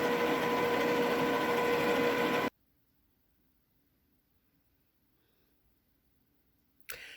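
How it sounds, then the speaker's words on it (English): An electric stand mixer on its slowest speed mixing sweet potato pound cake batter, a loud, steady motor whir that cuts off abruptly after about two and a half seconds, followed by near silence and a brief clatter. "I'm going to drop the mixer back down, and it is on the slowest speed just to incorporate the vanilla"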